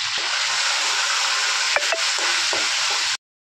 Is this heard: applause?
no